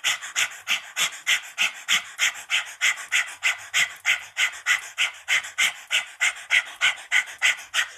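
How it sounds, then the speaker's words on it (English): Rapid breath-of-fire breathing from a Kundalini yoga practice: quick, even, forceful exhales through the nose, about two per second, close and steady with no talking. "So you've got a nice active core with this breath of fire, or with this long, slow, deep breathing."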